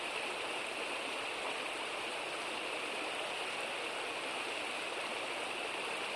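Steady rush of the Katun River flowing past white clay banks in Altai, a dense, even hiss of moving water at close range with no voices.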